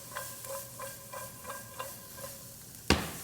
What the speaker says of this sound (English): now I'm gonna add in the carrots. And I'm gonna saute it a couple times.